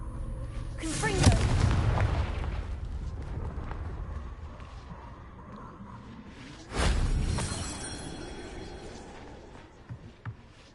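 A Confringo fire spell explodes in Hogwarts Legacy, a loud booming blast that bursts suddenly and trails off, then a second big blast a few seconds later, over steady game background noise.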